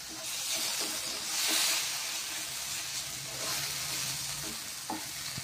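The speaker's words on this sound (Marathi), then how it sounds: "हा मसाला आता परतून घेतलेला आहे पहा" Ground dum aloo masala is stir-fried in a pan with a little water added, giving a steady, hissing sizzle with soft scraping stirs, close and unbroken.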